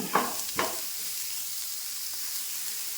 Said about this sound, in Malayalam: ഇതേ രീതിയിൽ നമുക്കിതൊന്ന് വഴറ്റിയെടുക്കാം.